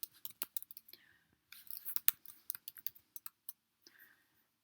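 Faint, sparse keystrokes on a computer keyboard as a web address is entered, irregular light clicks with short pauses in a quiet room.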